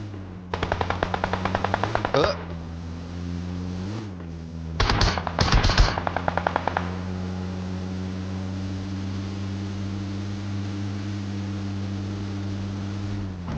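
Automatic weapon fire in the video game PUBG Mobile, two rapid bursts of clattering gunshots, the second louder and more ragged, over a constant low game hum with no voices.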